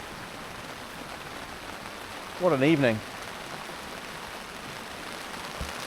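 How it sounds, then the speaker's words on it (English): Heavy rain falls steadily on a camp with an ultralight tent beside a fire, a constant close hiss of drops on surfaces throughout, with a brief spoken remark partway through. "I hope you can hear the rain."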